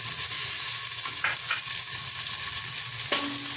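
Tomatoes, green chillies and turmeric frying in a pan for aloo gosht, a steady close sizzle with a few brief scraping stirs.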